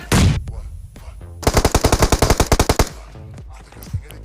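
Rapid burst of automatic gunfire in a shooting video game, about a dozen sharp evenly spaced shots, loud and close, framed by a single loud shot at the start and scattered quieter game sounds and clatter afterward.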